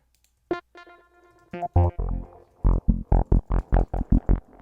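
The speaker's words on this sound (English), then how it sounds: "So right here I'm creating this plucky sound. I can play it on the keyboard" Plucky synth notes from a Serum patch played on a keyboard, a few sparse tones at first, then a quick run of short, bright, evenly spaced plucks with sharp attacks and quick decay, close and clear with no talking.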